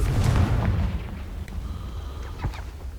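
Confringo fire spell in Hogwarts Legacy exploding with a deep booming blast that decays into a rumbling tail, followed by a couple of smaller pops and crackles.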